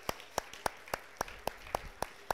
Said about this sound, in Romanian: vreau aplauze mari pentru fiecare dintre voi